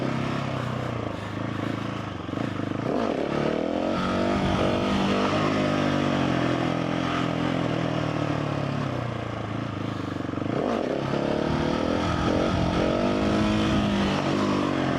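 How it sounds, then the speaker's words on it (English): A supermoto motorcycle, a Ducati 698 Mono or KTM 690 SMC R, doing slow controlled wheelies, its single-cylinder engine droning steadily with rising and falling revs, loud and continuous throughout with wind noise. "time for a nice couple of slow controlled wheelies."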